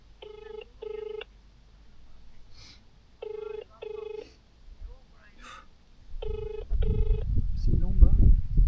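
An outgoing phone call's ringback tone sounds in repeated double pulses, three times, with people talking between the rings and a rumbling burst of noise toward the end.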